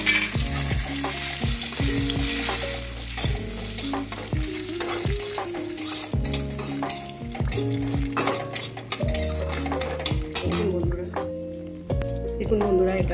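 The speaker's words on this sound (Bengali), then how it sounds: "এরপরে দেখুন আমি 5 ফোড়ন, লঙ্কা ফোড়ন আর তেজপাতা ফোড়নটা দিয়েছি।" Panch phoron, chili and bay leaf tempering sizzle in hot mustard oil over low gas: a continuous crackling fry with occasional stirring scrapes, set under steady background music.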